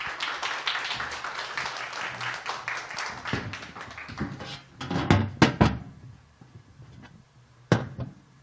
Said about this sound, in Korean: 나오실 때 우리 크게 한번 박수해 주셨으면 감사하겠습니다.